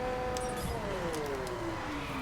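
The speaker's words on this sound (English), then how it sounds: "Oh, that's nitrous." A car in The Crew video game hums steadily while a rising-then-falling whine sweeps across as a nitrous boost kicks in, with a few faint clicks near the start.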